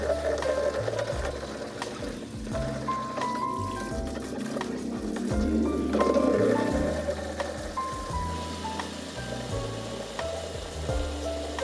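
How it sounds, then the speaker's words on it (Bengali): A bucket being scrubbed and washed by hand, with a steady wash of rubbing and splashing water that runs without pause. Tonal sounds sit underneath, and no one speaks. "ভালো করে হাত দিয়ে মানে ঘষে আর কি চারিদিকে বালতিটা ভালো করে ঘষে ধুয়ে নিচ্ছি"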